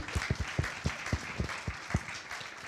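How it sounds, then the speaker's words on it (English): An audience applauds at an Indigenous film event, a short burst of scattered, fairly close hand claps without talk. "Yeah, round of applause."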